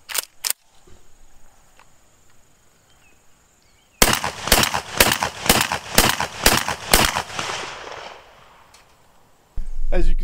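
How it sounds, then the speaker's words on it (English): A magazine-fed shotgun firing pellet loads at a target 50 meters away: two sharp shots, a pause, then about nine loud blasts in quick, steady succession, and another report at the end. "When I shoot this whole magazine of ammo, we're gonna have upwards of like 50, 60 pellets in a target at 50 meters."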